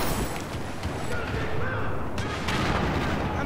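Gunfire and artillery in the first-person shooter Battlefield 4 rumble on, loud and dense, with sharper sustained bursts near the middle and again toward the end over a constant battle din.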